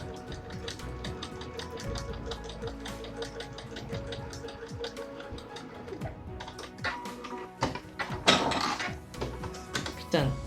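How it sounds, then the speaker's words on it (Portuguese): Domestic sewing machine slowly stitching a curved seam on a small fabric toy, soft rapid mechanical ticking in short bursts with pauses, plus brief handling clatter near the end. "O truque para fazer as zonas curvas é nada mais nada menos do que ir costurando devagar"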